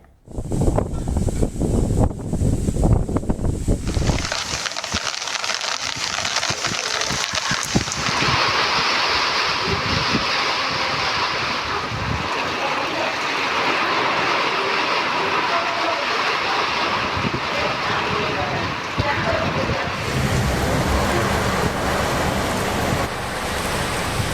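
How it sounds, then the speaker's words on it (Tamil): Heavy wind-driven rain pours in Namakkal, a dense, continuous roaring wash of sound that stays loud throughout, with rougher gusty rumbling at the start before settling into a steady downpour. "நாமக்கலில் காற்றுடன் கூடிய பலத்த மழை பெய்தது"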